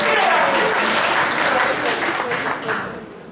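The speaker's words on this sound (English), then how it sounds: "Give Jake a big round of applause for coming up here." Church audience applauding a volunteer called up on stage, a loud, dense burst of clapping from the crowd that holds steady and then tapers off near the end.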